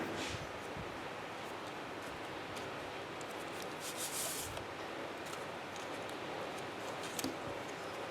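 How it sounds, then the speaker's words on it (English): A steady, dense hiss of heavy rain pours down continuously, faint and even, with a few scattered sharper patters. "here comes the rain again"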